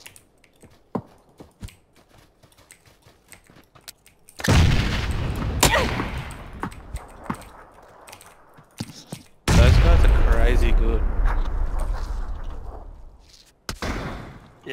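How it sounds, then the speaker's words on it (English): Gunfire in a shooter game: scattered faint clicks and distant pops, then two long, loud bursts of sustained shooting with booming low end, followed by a short final burst. "They're shooting me when he doesn't even know where I am."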